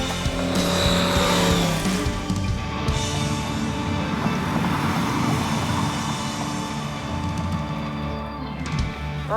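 A blown Ford Thunderbird on a cold winter road trip runs loud and steady in third gear, its engine droning continuously with a rough, strained tone from close inside the car.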